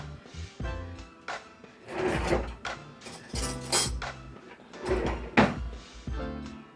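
A kitchen drawer pulled open and pushed shut to get a spoon, several close wooden slides and bumps with a rattle of cutlery, no talk.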